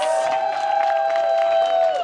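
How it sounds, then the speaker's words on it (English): Audience at a Campion College history quiz event breaks into loud, continuous clapping and cheering for an honoured guest, with a steady high whistle-like tone riding over the crowd noise. "Let's give him a big round of applause."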